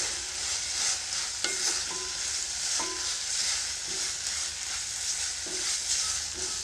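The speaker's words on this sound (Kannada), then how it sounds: "ಒಂದು ನಿಮಿಷ ಚೆನ್ನಾಗಿ ಮಿಕ್ಸ್ ಮಾಡ್ಕೊಳ್ತಾ ಇದನ್ನು ಕುದಿಸ್ಕೊಳ್ಳಿ" Onion palya simmers with added water while a utensil stirs the pan, a soft bubbling hiss broken by a few distinct scrapes and knocks.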